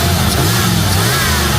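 Carbureted car engine with its ignition advance just reset, revving up steadily close by, a loud continuous mid-range drone with no talk over it.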